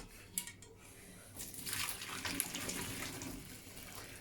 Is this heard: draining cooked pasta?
yes